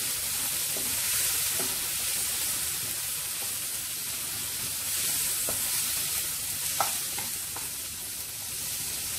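Spoon stirring coriander powder into sizzling tomato rice masala in a pan, a continuous close hiss of frying with a few light scrapes and taps, no voices.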